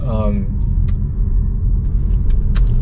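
A 2023 Polestar 2 electric car accelerates hard at full power with a steady, deep rumble and whine building under the cabin noise, loud and close throughout.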